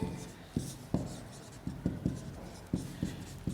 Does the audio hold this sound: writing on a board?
yes